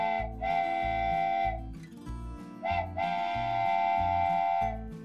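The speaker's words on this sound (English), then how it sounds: "The whistle on the train is blown by the engineer to communicate or give instructions." A steam locomotive's whistle sounds loud and close in a railroad-crossing signal pattern, a long blast, then a short one and another long blast, over a steady rhythmic chuffing of the engine.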